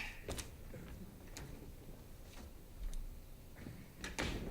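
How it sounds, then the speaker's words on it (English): Banging on a door on a theatre stage: a few sharp, irregular thuds and knocks, two of them in quick pairs, over a quiet room hum with no voices. "Was that your father banging on the door?"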